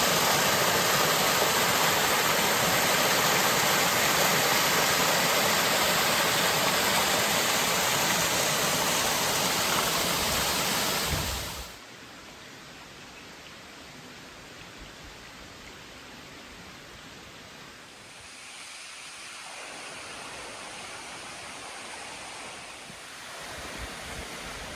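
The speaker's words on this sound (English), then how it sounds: "Made it to the Eliza Brook" Eliza Brook, a mountain stream on the Appalachian Trail near Kinsman Ridge, rushes as a loud, steady wash of flowing water, dropping to a softer, continuous babble partway through, with no talking.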